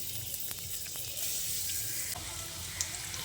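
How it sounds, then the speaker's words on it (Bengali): Coarsely ground spices fry in hot white oil in a kadai for chicken momo, a steady close sizzle with small crackles and a brief scrape partway through, no talking. "তারপর তেলে একটু ভেজে নিচ্ছি।"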